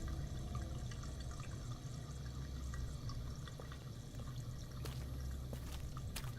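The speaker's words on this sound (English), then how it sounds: "Here's some water running somewhere." Faint, steady trickle of running water with a few soft drips somewhere nearby in the game Here They Lie, a continuous low wash with no voices.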